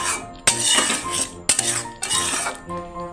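A spoon stirs garam masala and spices in a metal cooking pot for egg malai curry, three loud clanking scrapes against the pot with sizzling between, close up and with no voices.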